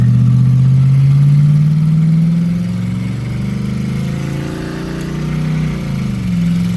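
Car engine pulling steadily in second gear with a manual shifter, after a transmission swap: a loud, low drone that rises in pitch, eases off, then climbs again, heard alone and up close.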